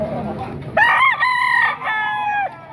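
A Hatch Gray gamefowl rooster crows close and loud at a market in Baliwag, Bulacan, two drawn-out calls following a brief murmur of background noise.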